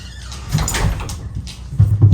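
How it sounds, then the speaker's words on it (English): A household door is opened or closed in a cozy home, giving a couple of soft clunks and a sliding rub, close and moderately loud with no talking. "Quiet with the door."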